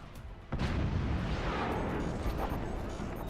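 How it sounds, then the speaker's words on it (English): Howitzer artillery fire in a video game: a sudden heavy boom followed by a sustained rumbling roar that stays loud and dense to the end. "these howitzers have a solid chance of landing"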